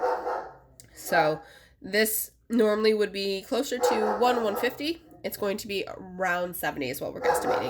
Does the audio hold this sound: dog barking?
yes